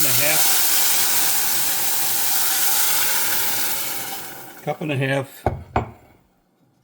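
Seasoned water poured onto a cup of basmati rice in a pot gives a loud continuous hissing rush for about four seconds, which fades out as a voice speaks briefly at the end.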